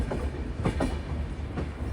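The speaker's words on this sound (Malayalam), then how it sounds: "രാജ്യ തലസ്ഥാനമായ ന്യൂഡൽഹിയിലേക്ക് ഇതാ ട്രെയിൻ എത്തുകയാണ്" A train pulls into New Delhi station, its steady low rumble carrying rhythmic wheel clatter over the rails with a few soft clacks, continuous and fairly close, no voices.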